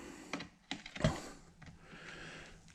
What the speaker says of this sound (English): go through all these hog rings all the way around the bottom and the back cover, and we just got to cut them.